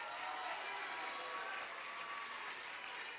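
A school awards audience gives middle school students a steady round of applause, dense and sustained clapping from a large crowd throughout.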